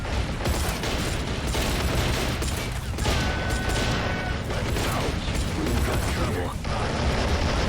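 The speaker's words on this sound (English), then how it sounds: "They've actually took control of this trench now. with the famous Lewis gun." Dense battle gunfire from the Men of War video game, with a Lewis gun firing in a trench fight amid tanks, forms a constant loud roar of overlapping shots and blasts that runs the whole way through.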